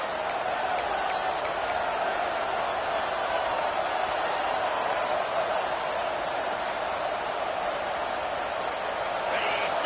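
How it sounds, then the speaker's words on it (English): A football stadium crowd roars at full throat after an interception, a dense, steady wall of cheering that holds loud and unbroken throughout. "This crowd, full throat, spreading the eardrums and letting them know it's"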